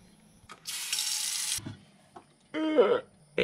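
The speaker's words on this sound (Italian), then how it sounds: "Per prima cosa prendiamo il nostro contenitore di vetro. Riempiamolo d'acqua" Water runs from a tap into a glass container, a steady broadband rush for about a second, then a second brief pour with rising filling tones near the end, with small handling clicks between.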